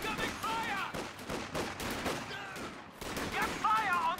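StG assault rifles firing in a strategy video game, with dense overlapping bursts of gunfire crackling throughout the battle and faint whistling tones layered on top.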